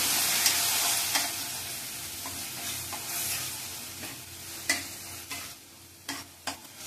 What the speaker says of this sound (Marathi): तेल सुटेपर्यंत कांदा आणि खोबरं आणि टोमॅटो आपले छान परतून घ्यायचे.